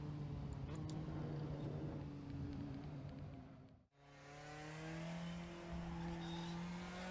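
Praga R1 race car, the 2021 fifth-generation version, driven in the RaceRoom racing game: a loud, steady engine drone that dips sharply around a shift, then climbs again with rising revs, with no talk over it.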